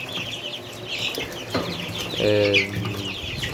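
Chickens and roosters cluck and squawk amid a busy, noisy farmyard background, with one louder drawn-out call standing out near the middle.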